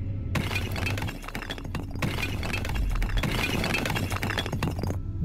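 Things smashing and breaking inside a house in Cataclysm: Dark Days Ahead, a continuous loud crash of shattering debris and glass with a constant clattering rumble that cuts off sharply.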